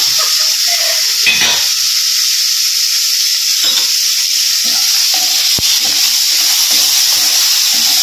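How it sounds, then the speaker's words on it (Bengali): Spices pop and sizzle in hot oil in a pan, making a loud, close, steady frying hiss with a few sharp crackles and occasional stirring. "এবার ফ্যাট ফ্যাট করে ফাটবে।"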